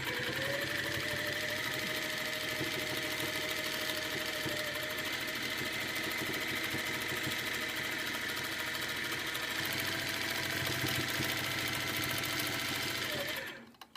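A domestic sewing machine stitches couched yarn down onto a quilt, running at a steady, continuous whir with a rhythmic mechanical hum close by for most of the span before stopping abruptly near the end.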